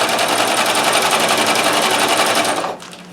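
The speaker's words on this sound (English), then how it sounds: "the machine itself is noisy unless you're sewing slowly, in which case it's not quite so noisy" Techsew 611 walking foot sewing machine driven by a Consew servo motor running at full speed, a loud, close, fast mechanical clatter that stops abruptly near the end, leaving a faint hum.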